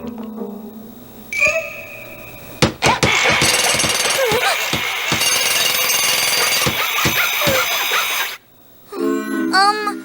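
Rapid, loud mechanical pounding runs continuously for several seconds, a harsh rattling hammer-like burst, with brief voices before and after.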